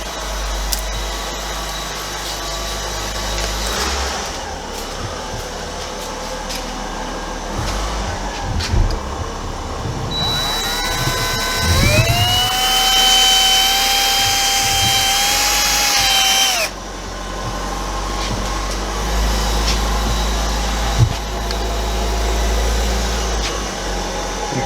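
A power drill drives screws into deluxe trim on a VW T1. It gives one long, loud whine that rises in pitch midway, then stops, with workshop hum and small tool clicks around it.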